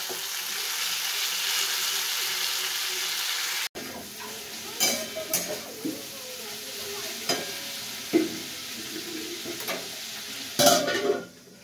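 Cauliflower and potato frying in a pan in a home kitchen, with steady sizzling at first, then quieter sizzle broken by scattered clinks and stirring knocks.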